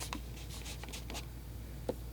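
A finger rubbing dark paint across watercolor paper: soft, dry scratching and brushing strokes come in short irregular bursts close by, with one small tap near the end, over a steady low hiss.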